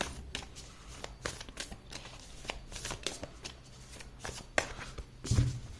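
Tarot cards are shuffled for a card reading in a series of crisp, riffling bursts and soft flutters, close up, with quiet gaps between handfuls and no talk over them.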